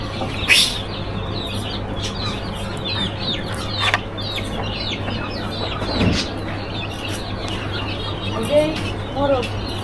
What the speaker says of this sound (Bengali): এই হলো মোরগ